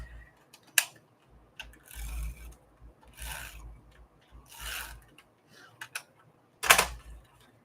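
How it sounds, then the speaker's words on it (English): Tape pulled and pressed onto a craft journal page, with several short tearing and rubbing bursts and sharp clicks spaced irregularly, close and quiet. "I'm going to go ahead and tape this in."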